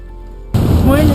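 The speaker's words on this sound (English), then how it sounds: "I left my window open and let all the rain pour in." Heavy storm rain suddenly bursts in through an open car window, loud and close, a broad rushing wash with a voice briefly audible underneath.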